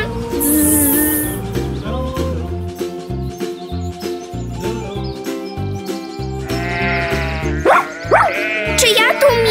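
Sheep and lambs bleat over a bright, busy children's song with steady music throughout, their calls mixed into the backing rather than heard alone.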